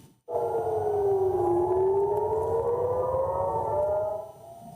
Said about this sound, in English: sirens sounded in several Israeli cities overnight as a result of Iranian missile attacks